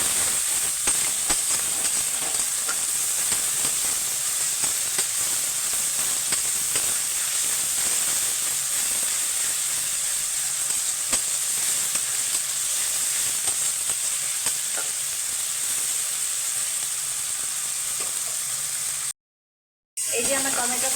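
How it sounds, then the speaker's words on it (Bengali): Tomato paste fries in hot oil with garlic, giving a steady bright sizzle and hiss close by, with faint scraping of stirring and a short silent gap near the end. "টমেটো পেস্টটা দিয়ে আমি আরেকটু নেড়ে চেড়ে একটু ভেজে নেব।"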